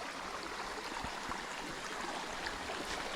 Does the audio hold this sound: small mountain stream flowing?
yes